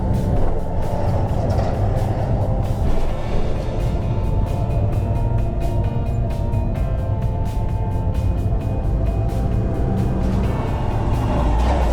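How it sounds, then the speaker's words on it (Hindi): Road traffic in a jam on the highway heading from Hyderabad toward Karachi: a loud, continuous low rumble of car, truck and bus engines idling and creeping, with faint clicks and beeps on top. "ट्रैफिक जैम है।"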